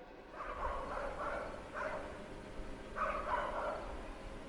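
A dog barks and growls in short, muffled bursts, two or three close together and then another pair, fairly faint against a steady low background.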